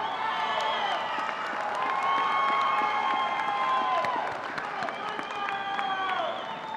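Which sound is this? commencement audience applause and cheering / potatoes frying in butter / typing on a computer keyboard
commencement audience applause and cheering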